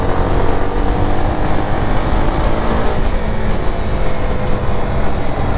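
Steady, loud engine roar of a CFMOTO 300SR sport motorcycle while riding, with constant wind and road noise and no pauses.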